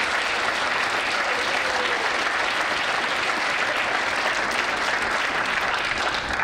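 A loud, dense round of applause fills the hall at a college speech showcase, a steady unbroken wash of many hands clapping at once that holds at full strength throughout.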